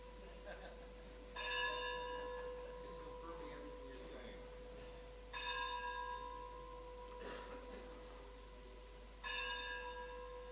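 A bell striking three times at even intervals of about four seconds, each ring decaying slowly into a faint steady hum, distant and quiet with soft talking underneath.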